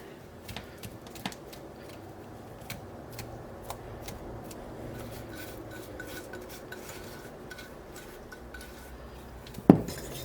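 A spoon gently stirring fruit pie filling mixed with egg in a bowl, soft repeated scraping and light clinks against the bowl, close and quiet, ending with a sharper knock.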